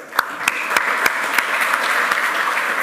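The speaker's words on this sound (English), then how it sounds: "they really deserve an applause for their work" Audience at a conference talk on software packaging, development and deployment claps for the project's contributors, a steady, moderately loud round of applause with a few sharper individual claps standing out.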